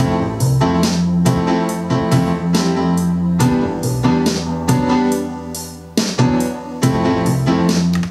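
Electronic drums, deep bass and piano chords lock into a relaxed, steady groove, full and close, with a brief drop near the end.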